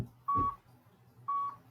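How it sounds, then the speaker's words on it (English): A workout timer app on a phone gives two clear electronic beeps, each lasting about a quarter second and spaced about a second apart, over a faint low background hum. "My timer's going."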